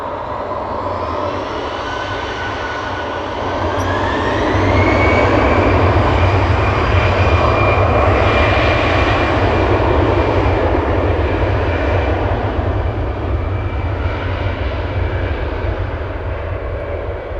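A 16-year-old Airbus A320 departs Amsterdam Schiphol for Vienna. Its jet engines give a loud, sustained roar that swells after a few seconds and holds steady, with a faint rising whine above it.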